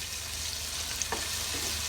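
Tomatoes frying in a pan give a steady, close sizzle, broken by a couple of brief scrapes from stirring near the middle.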